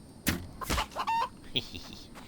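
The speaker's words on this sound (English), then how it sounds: "Don't often get him on the run, the little rooster." A little rooster from the video game The Infected, running about: a few short clucks and squawks in quick bursts, fairly close, with a brief higher call near the middle, over quiet game ambience.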